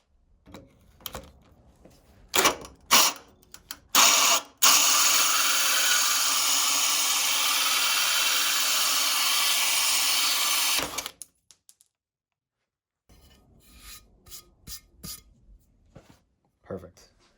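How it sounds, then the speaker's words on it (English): A power drill bores a hole in a tub and shower surround during tiling, one sustained loud whirring run of about seven seconds, framed by scattered taps and handling noises before and after. "So that makes it a little easier to drill the hole."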